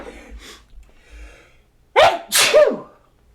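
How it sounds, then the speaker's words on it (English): A couple of quiet breaths build up, then a loud, close sneeze bursts out in two sharp parts. "I'm going to sneeze."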